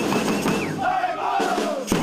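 An organized futsal supporters' group massed outside the arena before a Copa do Brasil match, loud crowd chanting and shouting with rising sung calls and a sharp bang near the end.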